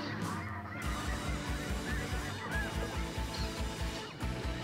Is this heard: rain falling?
no